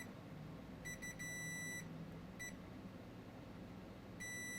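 A multimeter in continuity mode beeps while probing drain to source on a shorted MOSFET in an Asus GL703V gaming laptop, giving a few short faint electronic beeps and one longer tone over low room hum.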